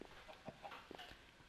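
Chickens in the Minecraft video game give several soft, short clucks in an uneven rhythm, faint and close, with no talking.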